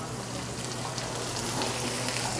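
Onion sizzling in olive oil in a pan over medium heat, a steady dense frying hiss throughout, fairly loud and even with no talking.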